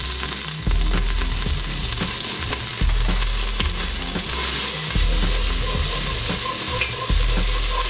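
Garlic and ginger sautéing in hot oil in a soup pot, a loud continuous sizzle broken by rhythmic stirring scrapes and low thumps.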